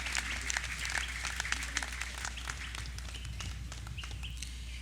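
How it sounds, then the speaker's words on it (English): Applause from an outdoor audience at a National Heroes Day ceremony in the Cayman Islands, a steady wash of many hands clapping at moderate distance over a low constant hum, with faint bird chirps mixed in. "Another round of applause for Honorable the Dr."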